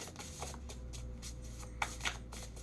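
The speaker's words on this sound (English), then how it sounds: "I try to talk while I shuffle" A deck of tarot-style cards is shuffled by hand in quick riffling bursts, about a dozen crisp flutters in a row, close and clear against a quiet room with no talking.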